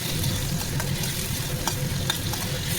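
Tomato, ginger and garlic paste fries in hot oil with a steady close sizzle, broken by a few scraping stirs of a utensil through the pan.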